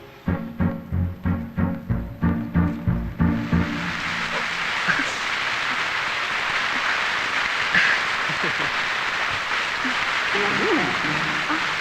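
Steady, dense rain pours down in a romantic film scene, its close, even hiss filling the air after a few rhythmic thumps at the start, with no voices over it.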